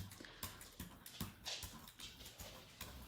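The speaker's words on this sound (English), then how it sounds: "I know, my dog is not happy." A dog whimpers in short, repeated whines spread across a few seconds, heard close by in a quiet room where prints are being made.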